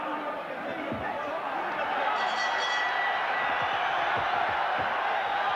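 Boxing crowd in an arena at a Barry McGuigan fight, a steady wash of cheering and excited chatter that swells in the middle, with a broadcast commentator talking over it throughout.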